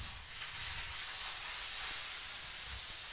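A duck breast (magret) sears in a hot pan with a steady, broad sizzling hiss that holds evenly throughout, close and moderately loud with no talking.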